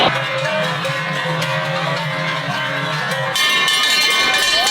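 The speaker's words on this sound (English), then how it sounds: "Those cows got some big bells on them." Heavy, large cowbells on cattle in a Swiss Alpine cattle descent clank steadily and loudly in an overlapping jumble, the clatter shifting in tone near the end.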